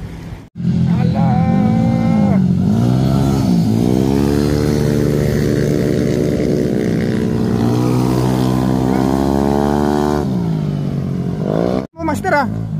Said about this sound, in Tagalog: Mga big bike oh.